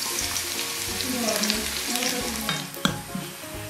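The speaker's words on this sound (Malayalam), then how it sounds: "ഇനി ഇതിലേക്ക് ചെറിയുള്ളി ചെറുതായി അരിഞ്ഞത് ഇട്ട് കൊടുക്കുക." Finely chopped shallots fry in coconut oil for a goat leg soup tempering, a loud continuous sizzle with stirring scrapes and a sharp clack near the end, alone without talk.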